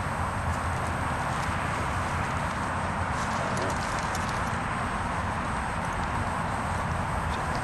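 Horse hooves clip-clopping at a walk on a mare, steady rhythmic footfalls under a constant broadband noise, without any talk.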